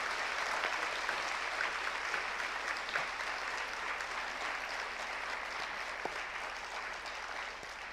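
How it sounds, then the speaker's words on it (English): Audience applause at an award ceremony, a sustained dense clapping from a sizeable crowd in a hall that holds steady and then slowly tapers. "a huge round of applause for all our 4 winners"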